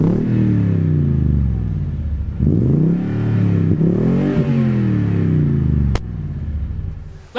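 Toyota Tundra TRD Pro with a 5.7-liter V8 revving through its TRD Performance tuned exhaust, three loud, close rev sweeps rising and falling, ending with a sharp clack and quieter idle.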